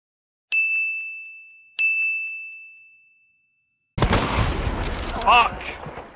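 Gunshots in the video game Hunt: Showdown come after two clear ringing metallic dings that fade out, then a burst of loud close shots with a noisy scuffle rising after a brief silence.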